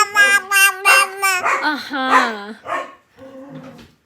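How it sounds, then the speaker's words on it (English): Dogs yip and whine loudly up close in quick, high-pitched bursts that trail off into softer whimpering. "Oh, your pups aren't supposed to be barking, huh?"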